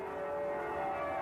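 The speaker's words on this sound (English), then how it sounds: "We ring the bells regularly here at the cathedral." Cathedral bells pulled by ropes by trained bell ringers hum with a sustained, steady metallic resonance, heard alone at moderate loudness without distinct individual strikes.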